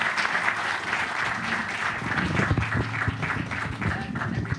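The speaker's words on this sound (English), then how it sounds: "So quickly, a round of applause to them as I let them step down." An audience at a G20 energy transitions dialogue event applauds as panelists leave the stage. The clapping is dense and sustained, filling the hall evenly from start to finish.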